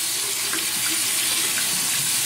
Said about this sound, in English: Let's put a little warm water on it.